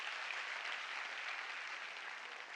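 A comedy club audience applauding, a dense, even burst of clapping that fills the room and fades slightly toward the end, with no voices over it.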